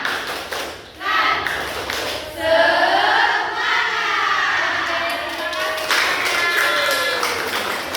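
A group claps together in a quick rhythmic pattern while children's voices chant along, loud and close.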